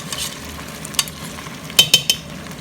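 Beef meatball sauce is stirred in a pot, a gentle simmering sizzle with a few sharp scrapes and knocks of a spoon against the pot, the strokes bunched near the end, close by and without talking.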